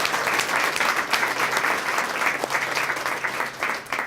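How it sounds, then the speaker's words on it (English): Audience at a Temecula student-of-the-month breakfast applauds the breakfast sponsors, with a dense, steady round of clapping from a roomful of people that carries on throughout. "Let's give them a great round of applause."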